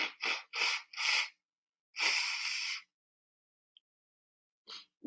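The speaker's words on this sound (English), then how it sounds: "I'm about to blow my nose." A person blows their nose in a series of short forceful bursts followed by one long honking blast, then silence and a final brief snort.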